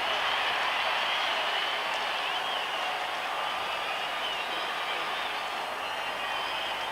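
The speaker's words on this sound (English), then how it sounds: "finally, Buffalo can cheer a touchdown" Stadium crowd roaring for a Buffalo Bills touchdown at an American football game, a loud, sustained wall of cheering and applause at a steady level throughout.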